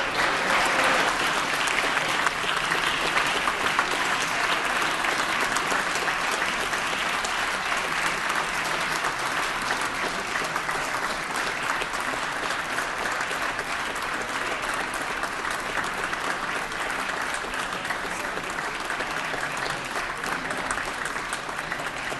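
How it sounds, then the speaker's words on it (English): Sustained round of applause inside a legislative assembly chamber, many hands clapping in a continuous, even wash that stays steady and fairly loud for over twenty seconds. "As the Fellows exit the chamber, let's give them another round of applause."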